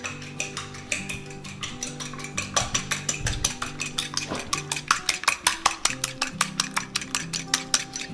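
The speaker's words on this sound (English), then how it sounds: "I'm going to crack this egg in a large bowl, and you just want to give it a quick mix so that it's light and frothy." An egg is whisked briskly in a large bowl until it turns light and frothy for a sugar-free chocolate mousse cake, giving fast rhythmic clinks of the whisk against the bowl close up, over soft background music.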